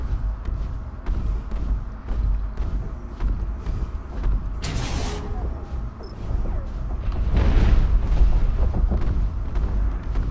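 A cannon weapon fires in the mech combat video game Hawken, heavy booms and mechanical clanks repeating under steady engine hum, with two sharp bursts standing out midway, fairly loud and close.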